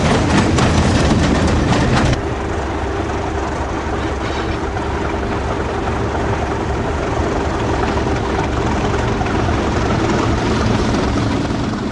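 A British Rail Class 37 diesel locomotive train rumbles past, loud at first, then settles into a steady rolling roar with faint rail clatter.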